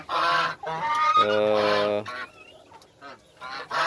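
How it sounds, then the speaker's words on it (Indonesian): Geese honk loudly and close by in a farmyard poultry pen, a run of harsh repeated calls with a sustained burst in the middle, then quieter chatter before another honk at the end. "angsa ini kita rawat"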